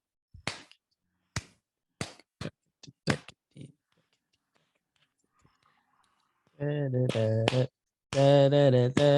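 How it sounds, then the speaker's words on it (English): Hands clap out an irregular rhythm of about eight sharp, close claps over three seconds, then a short pause before a person speaks. "Can you clap it out for me?"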